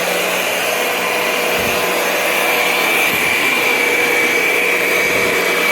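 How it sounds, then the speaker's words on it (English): A Rug Doctor rental carpet cleaning machine scrubbing a rug, giving a loud, steady whirring motor drone with a continuous brushing hiss and faint periodic thumps as it moves slowly. "you can hear when you're hitting the button, the scrubbing mechanism doing its thing"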